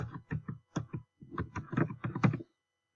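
Keys tapped on a computer keyboard while text is entered in photo-editing software, bursts of close, crisp clicks in an irregular rhythm, pausing briefly between words, with no one speaking.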